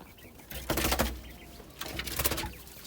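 Quails shuffle and flutter in their coop, with two bursts of rustling and wing flaps separated by a quieter moment.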